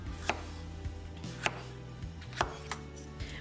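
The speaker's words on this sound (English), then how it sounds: "We start by slicing the pepper into thin strips." A knife slices a pepper into thin strips on a cutting board, making steady close knocks about every half second, each with a crisp snap, over a low kitchen hum.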